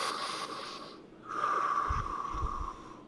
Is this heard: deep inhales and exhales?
yes